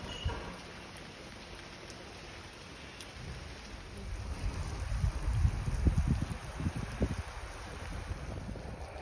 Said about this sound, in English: Having a hot chocolate in Boppard to escape the rain, which is kicked off again.